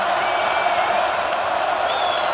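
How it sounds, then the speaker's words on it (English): A large arena crowd at a basketball game in East Lansing roars in a dense, continuous wash of cheering and applause, with a few whistles and shouts rising out of it. "Listen to this crowd at East Lansing"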